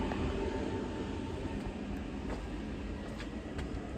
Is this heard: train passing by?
yes